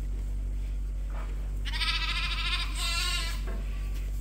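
Young lambs bleat at a sheep farm during bottle feeding, several wavering cries close by in two bursts over a steady low background hum.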